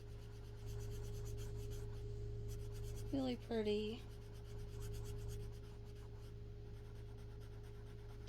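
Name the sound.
black Sharpie marker writing on paper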